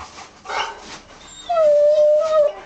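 Puppies whimper and yip nearby, with soft whines followed by a long, high, thin whining cry, fairly loud and close, with no voices.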